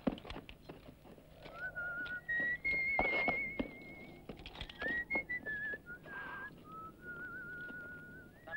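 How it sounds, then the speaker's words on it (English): A melodic whistled tune drifts along in sustained notes, fairly quiet, with soft knocks and rustling around it and no talking. "Stop that whistling."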